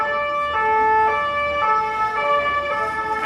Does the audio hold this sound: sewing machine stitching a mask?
no